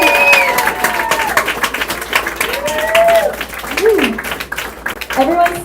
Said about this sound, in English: Can we get one more big round of applause